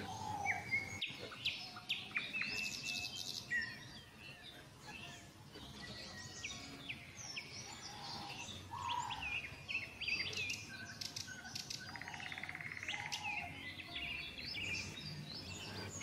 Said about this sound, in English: The bird song reaches a crescendo, filling the ear with an eternal chorus.